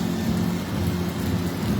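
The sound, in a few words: heavy rain with thunder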